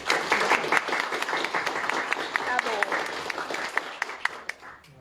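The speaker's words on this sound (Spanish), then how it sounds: "Todos ellos pues colegas, historiadores, para quienes les pido un aplauso." Scattered audience claps ring out at a book presentation for a group of historians, a moderate, uneven patter of individual hand claps with a voice talking over part of it.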